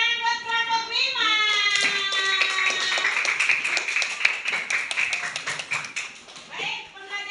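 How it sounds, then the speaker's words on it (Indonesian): A classroom of children claps together for a group, with quick, scattered handclaps that rise and fade over several seconds, mixed with children's voices and a teacher speaking. "tepuk tangan buat kelompok 5"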